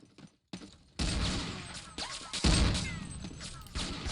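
Gunfire bursts and a grenade blast in a competitive shooter match, a flurry of loud sharp shots and thumps over roughly three seconds, with caster commentary talking over the action.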